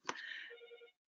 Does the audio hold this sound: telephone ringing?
yes